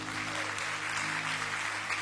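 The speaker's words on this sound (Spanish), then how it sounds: "Ese aplauso." A congregation applauding inside a church, steady sustained clapping from many hands at moderate volume, with no break across the whole stretch.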